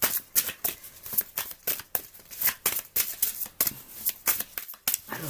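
Tarot cards being shuffled by hand, a quick run of crisp riffling bursts in an uneven rhythm, close and fairly loud, with no talking.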